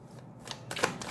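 Oracle cards are shuffled in a quick, close, soft riffle of papery flutters lasting about a second.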